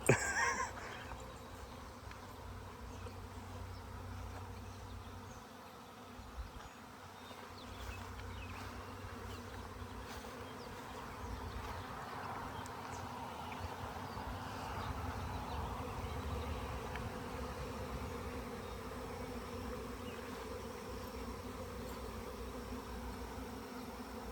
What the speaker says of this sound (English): I caught a swarm on camera.